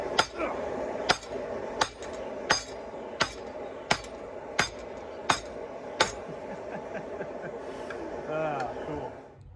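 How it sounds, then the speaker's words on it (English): A heavy 8-pound hammer strikes a small forged mini anvil about nine times at a steady, unhurried pace, each blow ringing sharply, with faint background voices. "Just for fun, I got my 8-pound hammer."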